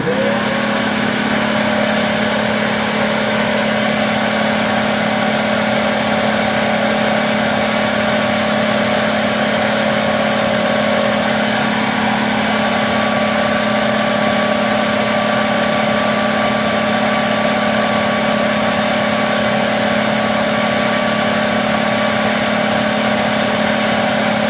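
A Kenmore Elite 31150 vacuum cleaner runs steadily with its brushroll spinning, giving a constant loud motor whine with a stable hum and hiss throughout, no voices.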